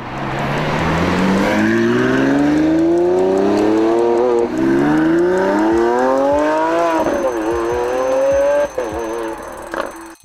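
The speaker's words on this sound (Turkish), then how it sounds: "Bulmanızı istediğimiz ses Aventador SVJ'nin sesidir" A Lamborghini Aventador SVJ engine revs loudly and close, climbing through several rising pulls with brief drops between them, alone without talk.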